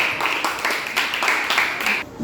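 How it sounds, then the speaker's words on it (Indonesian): A classroom full of students claps for a student group, a dense, steady patter of many hands that swells in waves for about two seconds before stopping abruptly. "tepuk tangan untuk kelompok bermanfaat"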